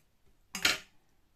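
Scissors snipping a small piece of pipe cleaner for a Halloween lantern craft, one brief, crisp close-up cut in an otherwise quiet room.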